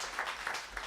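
Faint, brief patter of audience applause at an outdoor jazz event in New Orleans, a soft wash of clapping rising in a few gentle swells with no voices over it.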